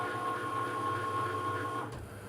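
A Cricut Maker cutting machine runs close by with a steady mechanical whir and a constant motor tone, fading slightly at the end.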